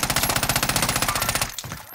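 Rapid automatic gunfire in a shooter video game, a steady fast rhythm of loud, close shots for about a second and a half before cutting off, with no talking.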